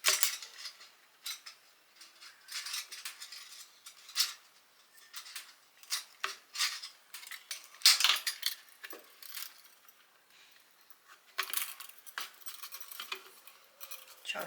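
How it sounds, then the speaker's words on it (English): Scissors snip a slice off the plastic hose of a cheap whipper snipper, heard as a scattered series of close, sharp clicks and crunches with quiet gaps between them. "you want to cut a slice of the hose, just one of the edges."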